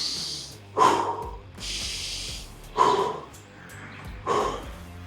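Heavy breaths after a kettlebell workout: three loud, close exhalations spaced about two seconds apart, each a rough breathy rush, with softer airy inhales between them.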